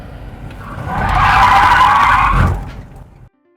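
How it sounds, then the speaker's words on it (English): A stunt car's tires skid and squeal loudly as it swings from reverse into drive at around 30 to 35 mph, one sustained screech rising and fading over a few seconds. "So you want to keep the car in reverse. You want to get up to about 30, 35 miles an hour. Now when you're initiating the turn, you want to shift it into drive."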